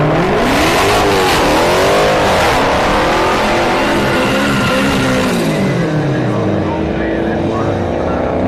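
A Chevrolet Camaro drag car launches down the strip at Orlando Speed World, its engine roaring loud and rising in pitch through the run, with an announcer talking over it.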